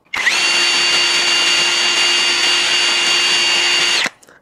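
A Mollar CD12300 brushless cordless drill runs at speed 2 (low mode), spinning up sharply and holding a loud, steady high whine for about four seconds before stopping abruptly.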